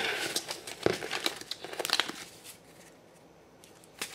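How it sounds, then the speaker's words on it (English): Playing cards being riffle shuffled by hand, a run of crisp crackling, crinkling bursts for about two seconds, then quieter rustling as the deck settles, heard close and alone. "You're supposed to shuffle, do the riffle, six or seven times"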